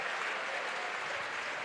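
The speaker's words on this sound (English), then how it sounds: "round of applause" A short, steady burst of crowd applause in a gym during a Hamilton Heights at Noblesville varsity boys basketball game, with many hands clapping evenly throughout.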